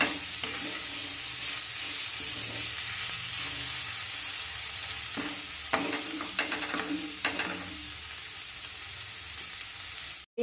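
Bathua greens stir-frying in an uncovered pan, a constant soft sizzle with occasional scrapes and knocks of a utensil stirring, fairly quiet and without speech, ending in a brief clatter.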